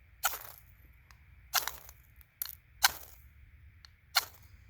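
Several quick, harsh scrapes as a Cold Steel SRK-C knife spine is dragged down a ferro rod, each a close, bright rasping burst of sparks, irregularly spaced over a quiet outdoor background.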